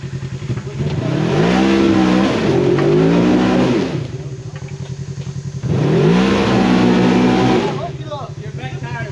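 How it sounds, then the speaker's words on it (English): Off-road side-by-side doing a burnout on a trail at Hatfield & McCoy, West Virginia, with two loud, close bursts of rising engine revving separated by a quieter idling lull. "if doing a burnout don't work, I don't know what will."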